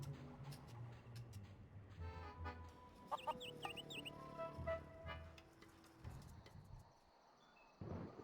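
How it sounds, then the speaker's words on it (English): Feral chickens on Plunder Island in The Curse of Monkey Island, clucking and squawking in short bursts over a low game ambience with chirping insects, with a few higher calls in the middle and no speech. "Plunder Island feral chicken, one of Plunder Island's most common fauna"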